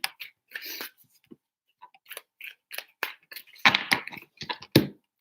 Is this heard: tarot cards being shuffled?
yes